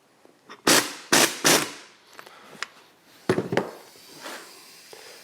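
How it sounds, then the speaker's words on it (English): A pneumatic air gun undoes the gearbox nut on a classic BSA Gold Star motorcycle: three close, loud rattling bursts, then a pause and a second pair of sharp bursts, with faint workshop clatter in between. "I use an air gun because it's easier."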